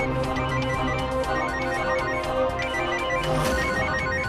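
A phone ringtone chimes repeatedly in a steady electronic pattern, loud and close, with no voices over it.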